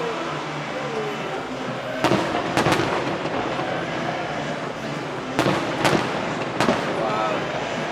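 Fireworks at the Honda Celebration of Lights festival in Vancouver boom in loud bursts, several in quick clusters, over a constant crowd murmur with people talking nearby.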